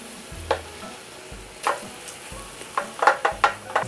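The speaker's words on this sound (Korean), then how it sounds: "팬이 가열되면 바로 목살을 올려줍니다." Pork neck frying in a hot oiled pan, a soft continuous sizzle broken by several sharp crackling bursts and stirring sounds, close and fairly loud with no talk.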